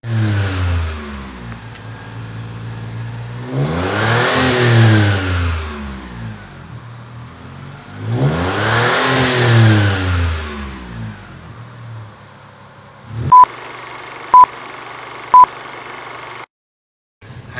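Engine of a 2004 Xenia 1000 car revved twice in long swelling bursts that rise and fall, close and loud, followed by a few short electronic beeps near the end.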